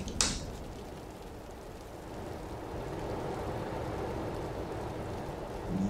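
Rain pattering on a truck from a realistic weather sound mod in Euro Truck Simulator 2, a steady even hiss of drops broken by a sharp brief splash near the start, with no voices.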